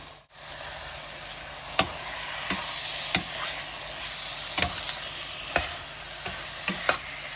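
Half a kilo of boneless chicken frying in a pan for Andhra-style chicken pulao, a steady close sizzle with occasional soft stirring clinks.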